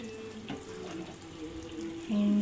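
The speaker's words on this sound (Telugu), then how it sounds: "ఇందులో కొంచెం వాటర్ వేసుకోవాలి" Water poured into a cooking pot while making paneer biryani with rice, coriander and mint, a steady running-water pour at low level that grows louder near the end, with no talk.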